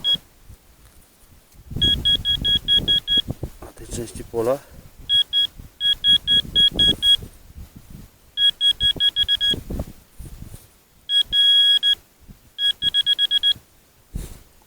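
A metal detector sweeping a field in Pomerania gives repeated sharp, high electronic beeps in short bursts, with gaps of quiet between them, while someone talks over and between the signals.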